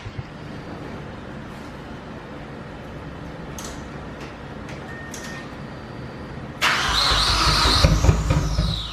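A Speed6 engine cranks and tries to start: a low, steady churning rumble that gives way to a louder, harsher whirring burst near the end before fading.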